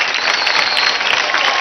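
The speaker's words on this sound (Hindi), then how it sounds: "जोरदार तालियां हो जाए" An audience applauds a dance performance on the Indian TV dance competition Dance India Dance Season 4, a dense, loud, unbroken wash of clapping across the whole stretch with no talking over it.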